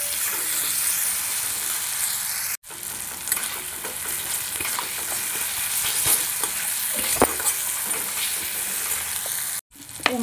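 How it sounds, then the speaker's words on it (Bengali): Spices with cumin and coriander powder fry in hot oil, giving a steady, close sizzle with stirring scrapes throughout and two brief breaks in the sound. "আর দেবো জিরে গুঁড়ো, ধনে গুঁড়ো, দিয়ে মশলাটা ভালোভাবে কষাবো।"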